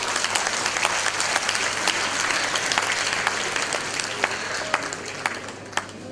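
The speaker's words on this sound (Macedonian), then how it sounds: "Аплауз еден." An audience at a school's 70th anniversary event in Skopje claps together, giving a dense, steady wash of applause with a few sharper individual claps toward the end.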